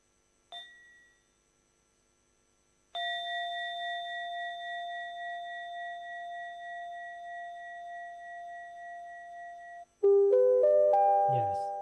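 A mindfulness bell rings on a Buddhist campus: a brief tap, then a long clear resonant strike that sustains for about seven seconds and fades before other tones sound.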